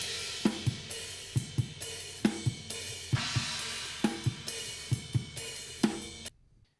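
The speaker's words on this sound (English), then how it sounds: "And when we listen to the overheads, they sound like this." The soloed overhead microphones of a drum kit, mono tracks on a stereo bus, carry a steady groove of crashing cymbals over punchy kick and snare hits. The playing runs for about six seconds, then cuts off abruptly.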